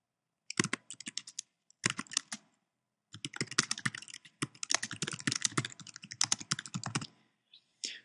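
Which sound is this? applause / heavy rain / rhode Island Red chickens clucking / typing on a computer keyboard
typing on a computer keyboard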